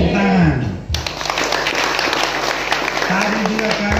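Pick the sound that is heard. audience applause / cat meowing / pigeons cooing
audience applause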